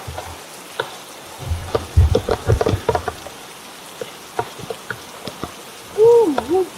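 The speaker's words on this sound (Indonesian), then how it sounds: "Hujan-hujanan." Steady rain patters on a mountain trail on Mount Canggah (1,685 m), a dense crackling hiss with scattered louder drops close by and a brief voice sound near the end.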